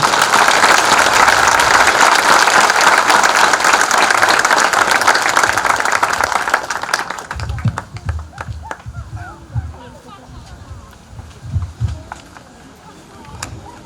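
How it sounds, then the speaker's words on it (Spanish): A church congregation at a Catholic Mass in Quito applauds loudly and steadily for about seven seconds, then the clapping thins out as a voice begins speaking over the quieter room. "Aplaudimos la palabra del Señor."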